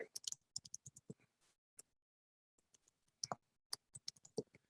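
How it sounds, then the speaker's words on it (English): Bursts of rapid keyboard typing, crisp clicking keystrokes in quick clusters with a short pause in the middle, close by, no talking. "I'm typing something in here"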